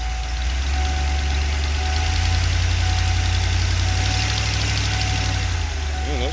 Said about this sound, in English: As soon as I touch the gas, an immediate hesitation.